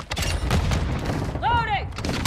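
Gunfire from a first-person shooter match in Hardpoint mode rattles continuously at close range, a dense burst of shots with a sweeping electronic tone partway through.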